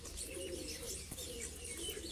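Racing pigeons at a Punjab pigeon-flying competition coo softly in a low, faint, murmuring stream, with a few light chirps scattered over the quiet background.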